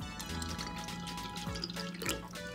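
Water pours into a cup in a light, continuous trickle with faint dripping, close by and fairly quiet.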